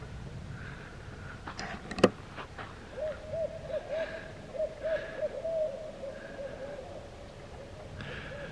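Owls hooting outdoors, a series of soft, wavering hoots at moderate distance over faint background noise, with a brief sharp knock early on.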